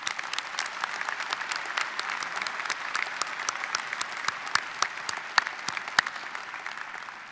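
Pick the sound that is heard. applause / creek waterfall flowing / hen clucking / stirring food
applause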